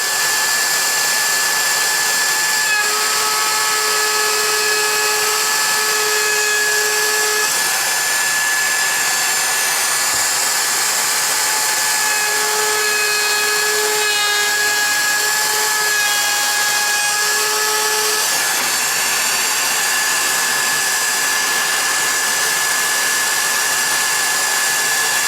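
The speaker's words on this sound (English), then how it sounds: "now I'm going to get the router and we go around the edges and give it a little round over" A router rounding over the edges of wooden Halloween costume rings, a loud continuous high whine close by with slight pitch shifts as the cut changes, and no talking.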